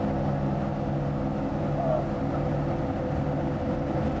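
A snowblower engine runs steadily at a loud, even drone, with a constant low rumble and no pauses, outdoors during residential snow removal in Northern Ontario.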